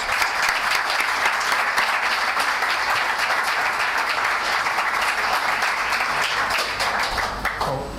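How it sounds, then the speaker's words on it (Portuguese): Sustained applause from a large conference audience, a steady wash of clapping that fills the whole stretch before tapering slightly at the end. "a quien recibimos con el aplauso que se merece"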